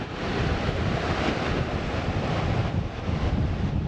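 Surf and wind at Iporanga beach in Guarujá, a continuous loud wash of breaking waves mixed with gusty wind buffeting the microphone, no voices.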